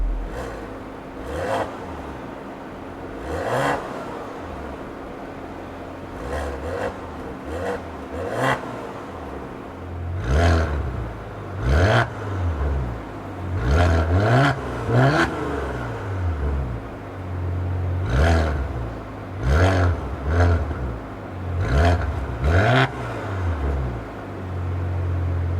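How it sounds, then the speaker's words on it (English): A car in sport mode, heard from behind at the exhaust, is revved repeatedly: sharp throttle blips swell and fall in a loose rhythm, growing louder and more frequent toward the end, with no talking. "put the car into sport mode, and I will rev the car for you guys so you guys can hear what it sounds like from the back"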